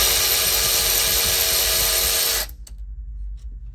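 A 10 mm socket on a power driver spins nuts off a Robin gas engine from an EZGO golf cart. A loud, steady high whine lasts about two and a half seconds, then cuts out abruptly to near silence.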